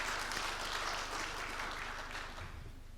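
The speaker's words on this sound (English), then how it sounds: "let's give a very warm round of applause to Sebastian for this wonderful" Applause after a presentation at a formal meeting, a steady, moderately loud wash of clapping that carries on evenly and fades slightly toward the end, with no voices over it.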